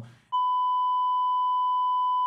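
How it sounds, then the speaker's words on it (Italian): A steady electronic censor tone is dubbed over an Italian startup podcast, starting abruptly after a brief bit of muffled speech and holding loud and unwavering for about two seconds before cutting off. "magari poi Ilaria metterà un beep"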